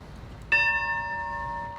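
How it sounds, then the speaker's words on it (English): A single bell struck once at a Pearl Harbor memorial ceremony in Carson City honoring USS Nevada crewmen, a clear ringing tone that sustains and slowly decays over quiet ambience. "and a bell was chimed"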